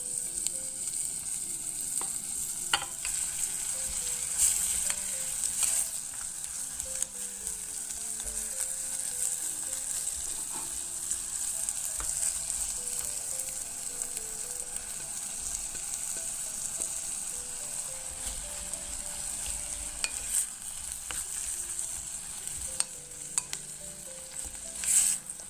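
Kimchi stir-frying in a pan for cheonggukjang stew, a steady close sizzle and crackle running the whole time with occasional scraping stirs, no talking.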